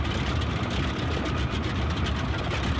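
A steady, droning engine hum of a Boeing 247D propeller plane in Microsoft Flight Simulator 2020 runs unbroken throughout, low and rumbling with a slight rough texture at constant power.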